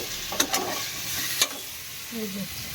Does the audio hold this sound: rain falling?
no